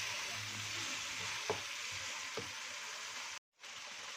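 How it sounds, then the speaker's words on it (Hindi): Chicken keema frying with garlic and ginger in a pan gives a steady, close sizzle, with two faint stirring clicks partway through and a brief dropout near the end. "कीमा को कुछ देर के लिए लहसुन और अदरक के साथ ही हम भून लेंगे।"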